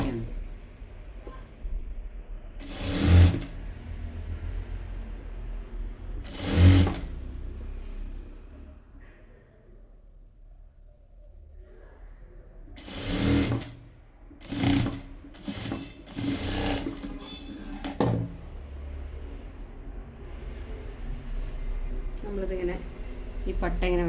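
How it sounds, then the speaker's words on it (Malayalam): Sewing machine stitching the elastic waistband of pencil pants, several short bursts of rapid mechanical stitching separated by pauses, with someone talking in between. "ചീത്ത വശത്തു നിന്നാണ് നമ്മൾ അടിച്ചു കൊടുക്കുന്നത്"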